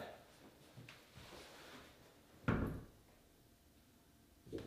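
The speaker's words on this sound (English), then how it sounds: "So I'm going to close the door and check that from the other side." A door being fitted and shimmed during installation swings shut with one solid thud midway, followed by softer knocks and handling sounds at close range.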